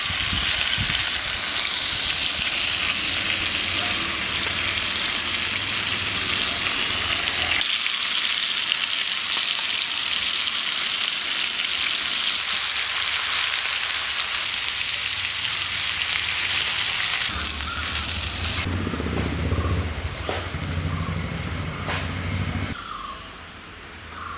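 Fish fry sizzling steadily in hot oil while Tamil fish curry is cooked, a loud continuous crackle and hiss that drops in level partway through and carries on, with no talking.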